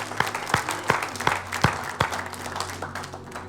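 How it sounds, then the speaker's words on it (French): Church congregation at a Sunday service clapping in a rhythmic beat, about six sharp, evenly spaced claps over a soft crowd murmur, fading toward the end. "Est-ce qu'on peut applaudir le Seigneur ce matin?"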